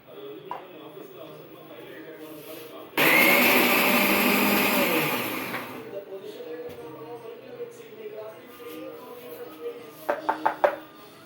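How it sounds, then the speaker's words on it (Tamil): A mixer grinder grinding shallots roars in a single short burst of about three seconds, with quiet talking before and after and some clattering near the end. "மிக்ஸில் வச்சு ஒரு அடி அடிச்சுக்கலாம்"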